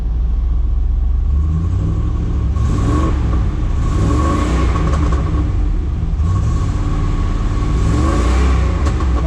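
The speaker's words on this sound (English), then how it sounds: "We'll rev it up just a little bit. We're not up to temp just yet." A 1990 Pontiac Firebird Trans Am GTA WS6, still warming up, revs repeatedly with a deep rumbling idle between rising blips, steady, close and loud.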